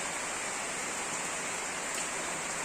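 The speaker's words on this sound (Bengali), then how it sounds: "তো দেখো কি বৃষ্টি হইতেছে" Rain falls in a steady, even hiss that holds constant throughout, soft and distant-sounding, with no other sounds standing out.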